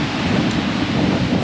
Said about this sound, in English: That wind's blowing on this side.